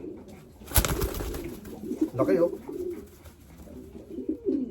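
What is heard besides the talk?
racing pigeons cooing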